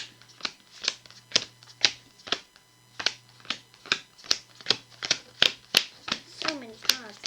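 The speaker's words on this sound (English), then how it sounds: "So many cards that have been shuffled." Keyforge cards being shuffled by hand, a rapid series of crisp riffling bursts repeating at a steady rhythm, close and fairly loud, with a faint hum underneath.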